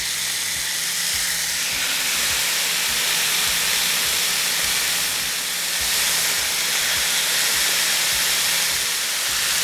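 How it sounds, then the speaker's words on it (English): Marinated chicken pieces sizzle in a hot skillet, a steady loud hiss that holds without a break throughout, with no voices. "I'm just gonna add the chicken in the skillet"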